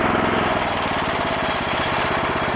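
An Agroray hybrid single-axle walk-behind tractor engine running close by, a loud, steady, rhythmic chugging thump that shifts its beat slightly after a moment, with no voices.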